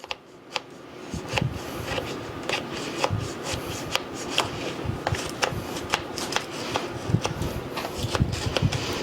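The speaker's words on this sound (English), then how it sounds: "what I have here is a little sharp paring knife, and I'm just cutting around the edge so that that will come loose good whenever I open up the springform pan" A sharp little paring knife runs around the edge of a no-bake cheesecake in a springform pan, making close, quick scraping ticks in an uneven rhythm against a soft rustling background, with no voices.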